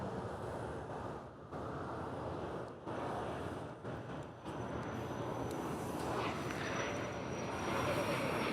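Steady roaring jet rumble from an American Airlines A321 at Los Angeles International Airport, broad and continuous with a faint rising whine, and voices talking quietly over it.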